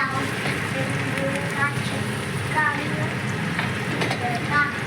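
Egg bhurji, scrambled eggs, frying in a pan: a steady dense sizzle and crackle with occasional scraping, continuous and close, while someone talks over it.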